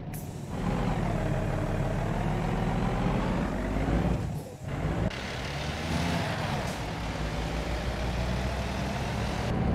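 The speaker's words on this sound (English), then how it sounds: "Gotta start my engine, bro." A heavy truck engine runs at a loud, steady idle in a trucking simulation game, with a brief dip partway through before the rumble resumes and continues alone.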